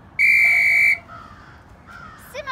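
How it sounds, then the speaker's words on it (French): A single sharp referee's whistle blast on a football pitch, loud and close, lasting under a second before fading to quiet background. "Siffle!"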